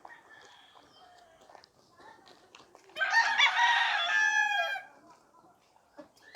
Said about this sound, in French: Alors ici, il y a beaucoup de coqs.